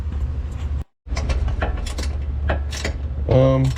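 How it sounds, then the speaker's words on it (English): A ratchet and socket turn a bolt under a 2009 Toyota Prius, giving rapid mechanical clicking and metallic rattles close by, with a brief dropout and a louder tonal scrape near the end. "it has to be a ratcheting wrench. I think a socket will be fine."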